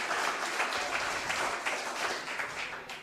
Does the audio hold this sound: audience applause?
yes